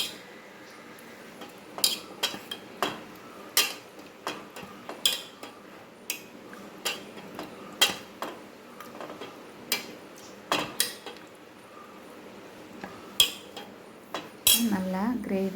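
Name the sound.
stirring prawn gravy with coriander leaves in a pan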